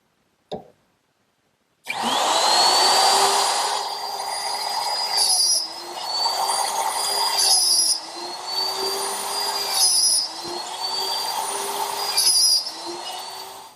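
A router cuts 1/2 inch blind dovetails in a dovetail jig, a loud sustained high whine with rhythmic dips and surges as the bit moves through the wood, after a short knock and a moment of silence.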